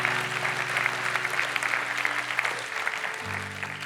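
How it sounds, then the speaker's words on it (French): Steady, enthusiastic clapping from a large congregation at a French-language church service fills the space, with a sustained organ-like tone underneath that shifts near the end. "applaudissez bien fort le roi des rois"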